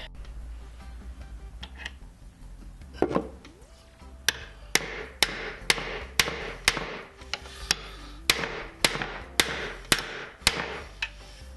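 A silver ring is struck on the end of a metal or aluminium mandrel to flare it, giving a steady series of sharp, ringing metallic hammer blows, close and loud, with a brief pause partway through.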